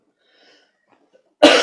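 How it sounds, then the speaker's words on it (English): A short, loud cough-like throat clearing bursts in abruptly near the end after near silence, a single harsh rasp close to the microphone. "Just clear my throat first"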